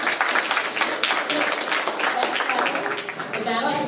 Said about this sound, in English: Let's give the red coats a round of applause.